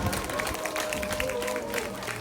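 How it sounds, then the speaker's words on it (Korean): Steady applause from a crowd at a Korean Buddhist dharma talk, dense and continuous clapping at moderate loudness with no break. "큰 박수 보내주시기 바랍니다"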